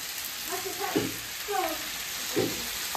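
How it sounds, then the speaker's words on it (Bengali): Vegetables frying in a pan in a home kitchen give a steady sizzle, with stirring now and then, while voices talk close by over it. "দেখো তো মার ভাজি ঠিক হচ্ছে।"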